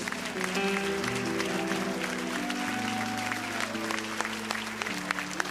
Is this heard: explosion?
no